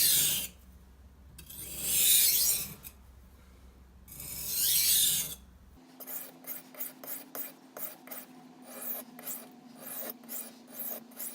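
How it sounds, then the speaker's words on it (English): Chef's knife drawn across a soaked 800 grit whetstone at about 20 degrees: two long, loud rasping strokes, then a run of short, rhythmic scraping passes close by. "let's start out with this 800 grit stone. And I run mine at about 20 degrees."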